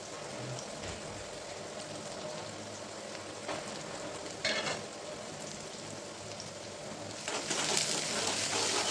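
Chopped onion frying in a pan for a dill greens dish, a soft continuous sizzle crackling close by, with a few louder stirring scrapes and no talking.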